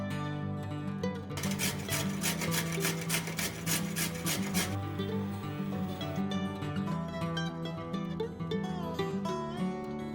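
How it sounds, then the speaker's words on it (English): Carrots are rubbed back and forth on a grater in a home kitchen, a loud continuous rasping scrape with rapid even strokes in the first half, then steadier grinding to the end. "So let's grate some carrots first."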